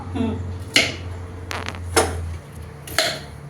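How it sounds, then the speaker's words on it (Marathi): Knife chopping bitter gourd (karela) on a board, with a few sharp separate cuts spaced about a second apart over a steady low hum. "आता काय करताय कारले चिरते हा"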